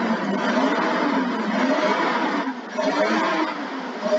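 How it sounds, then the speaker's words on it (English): A 2009 Suzuki Jimny engine that runs rich and low on power, given a snap of the throttle: a steady, loud mid-pitched engine roar that dips briefly and then swells again, heard close with no talk. "give it a snap throttle now"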